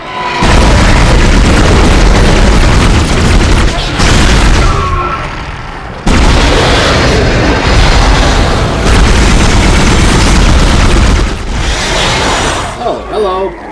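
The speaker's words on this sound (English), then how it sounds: "let's try to use the pulse rifle because it's got a lot of ammo for that" A pulse rifle fires in the 2008 video game Dead Space, loud booming bursts of automatic gunfire in long sustained volleys broken by short pauses, with someone talking over the combat.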